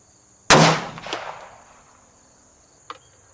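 Single sharp rifle shot fired at a target 15 yards away on a range, using an IMR 4320 powder load, with a loud crack that decays quickly, followed by a faint brief click afterward.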